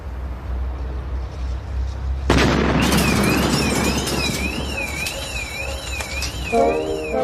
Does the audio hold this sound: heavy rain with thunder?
no